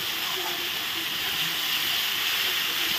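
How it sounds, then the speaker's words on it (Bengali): Spice paste (masala) frying in oil for a vegetarian green banana kofta curry gives a steady, loud, continuous sizzle and hiss throughout, close up with no pauses. "এখন আমি মশলাটা ভালো করে কষিয়ে নিচ্ছি।"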